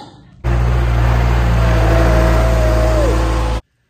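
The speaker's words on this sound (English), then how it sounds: "So here's the best tool of all. It's a tractor." A tractor engine runs steadily at close range, a loud low rumble holding an even idle with a slight rise in pitch partway through, alone with no talk.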